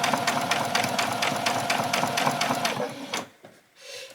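Sewing machine stitching fabric for an apron, a rapid even mechanical chatter for about three seconds that stops abruptly, followed by a brief quiet handling sound.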